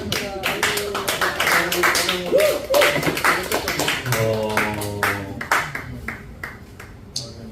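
A church congregation at a Korean Tuesday evening revival service claps in bursts, with voices ringing and calling out over and between the claps.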